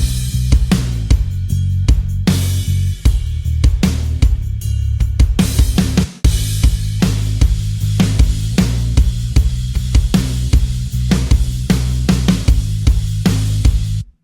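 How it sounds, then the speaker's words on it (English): Pop country drum kit parts play a steady rhythmic groove with kick and snare hits and ride and crash cymbal strokes, loud and continuous with a brief break midway and no voices. "On the solo, I switched to a ride cymbal, and then on the bridge, I switched to another kind of like crash cymbal"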